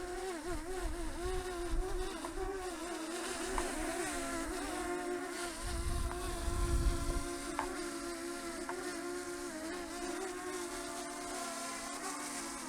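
A DJI Mini 2 drone buzzes with a steady high whine as it flies in gusty wind and comes in to land, the wind adding a low, fluctuating rumble throughout.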